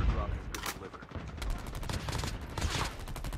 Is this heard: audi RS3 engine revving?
no